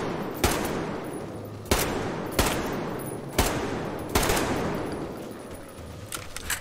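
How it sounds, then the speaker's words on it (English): A gun fires in the video game Metro Exodus: five loud, evenly spaced shots, each ringing out into a long echoing tail, followed by scattered softer clatter at the end. "I like this gun! It's a very good gun. Very loud, but good."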